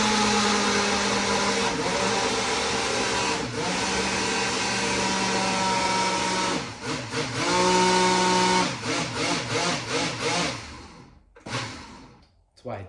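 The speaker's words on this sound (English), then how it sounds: "I can't really talk while it's blending. It's pretty loud." A blender runs continuously while mixing a thick protein smoothie, its loud steady motor whine shifting pitch as the load changes before cutting off near the end.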